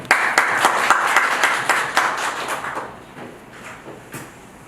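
Audience applause at an ICT lecture event before a professor's talk: dense, fairly loud clapping for about three seconds, then fading to a few scattered claps.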